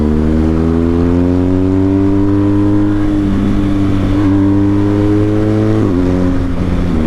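A motorcycle engine revs loudly and close, a steady rising drone that climbs in pitch, dips briefly near the end, then picks up again, with no talk.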